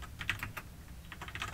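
Soft, rapid keystrokes on a computer keyboard, a short run of light clicks over low background hum.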